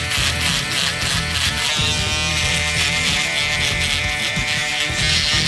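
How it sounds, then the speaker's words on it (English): An electric shaver trims a goatee while the skin is held taut, its steady close-up buzz running continuously with only slight shifts as the head moves over the face. "We're going to use a shaver, the electric shaver."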